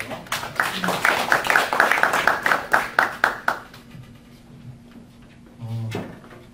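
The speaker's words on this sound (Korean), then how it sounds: "박수로 환영해 주십시오" Small group clapping at a Korean church pastors' seminar, welcoming three guest lecturers: a few seconds of sparse, uneven claps close by, dying out into quiet room tone, with a brief voice near the end.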